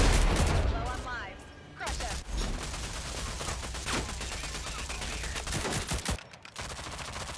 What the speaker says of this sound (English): I don't know who I'm shooting at. I'm just shooting.